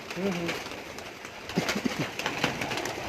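Lakha pigeons coo softly close by in a village loft in Ladwana, Nankana Sahib, a few low throaty calls over a dull background hum and shuffling, with no talk.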